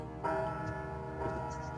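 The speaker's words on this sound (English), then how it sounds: "Those bells." Church-style bells ring in the point-and-click adventure game Anna's Quest, a steady resonant chime with a fresh strike partway through, laid over the game's background music.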